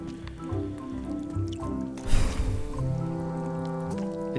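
Water leaking and dripping inside a building in Return to Monkey Island, with liquid trickling and dribbling, a brighter splashing swell midway, and a melodic musical bed underneath.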